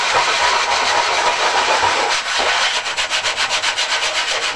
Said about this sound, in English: when you want to sand it all